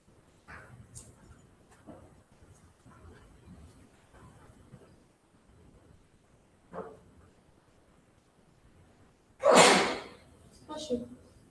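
A single loud, sharp sneeze bursts out in a university kinesiology class, followed by a smaller echoing sound. Faint talk and movement come before it.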